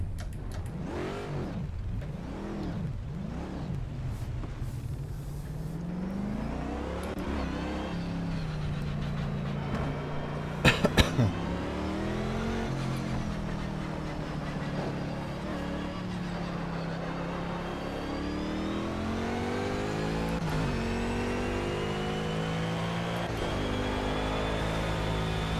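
A GT3 race car in the game Project Cars revs hard and holds near the rev limiter, its loud engine note rising and falling through repeated climbs and drops, with a brief sharp click midway.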